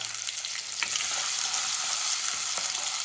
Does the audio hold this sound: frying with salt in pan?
yes